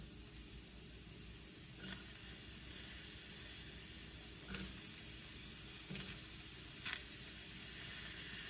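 Chopped onions hitting a pan with no oil for a low-calorie eggplant dish, giving a steady soft sizzle and hiss throughout with a few faint clicks and one sharper tap near the end.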